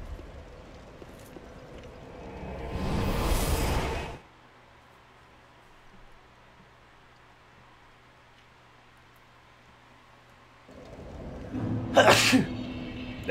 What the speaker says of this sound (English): Damn, I keep sneezing.